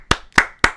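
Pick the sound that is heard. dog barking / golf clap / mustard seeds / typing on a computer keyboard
golf clap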